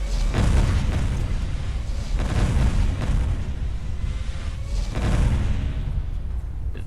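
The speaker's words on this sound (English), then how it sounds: "So let's get to orbital striking some people." An orbital strike from the Archimedes II mod in Fallout 4 sets off a series of heavy, rumbling booms, several deep explosive surges rolling one after another at close, loud range.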